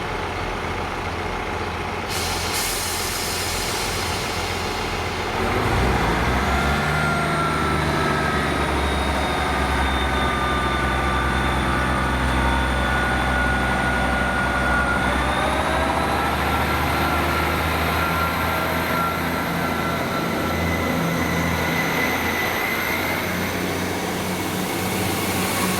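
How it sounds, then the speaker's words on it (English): ScotRail Class 158 diesel multiple units 158738 and 158711 pass at Monifeith, a loud steady diesel drone with rising and falling whines, continuous and close, with no talking. "Then this is 111, the 1843 ScotRail service to Arborough from Edinburgh with 158738 and"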